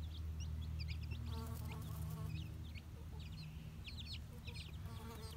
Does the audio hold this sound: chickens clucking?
yes